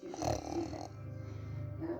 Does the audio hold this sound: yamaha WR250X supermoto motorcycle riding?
no